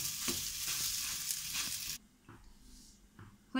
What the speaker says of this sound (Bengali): এর ভিতরে আমি আলুটা দিয়ে কিছুক্ষণ নাড়াচাড়া করবো